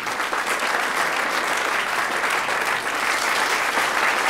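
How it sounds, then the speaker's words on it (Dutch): Sustained applause from an audience at a Dutch awards evening for starting entrepreneurs, steady and dense throughout without pause. "Groot applaus."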